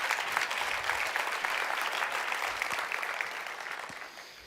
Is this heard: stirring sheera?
no